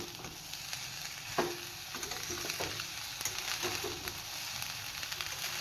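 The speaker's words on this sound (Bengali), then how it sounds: "এখন দিয়ে দেবো আগে থেকে ভেজে রাখা সবজিগুলো, এখন একটু হাই ফ্লেমে সব কিছু মিশিয়ে নেব" Pre-fried vegetables and fried rice stir-fried together over a high flame, with a steady sizzle under scattered scraping and clinking of a spatula against the pan, close and clear with no talk.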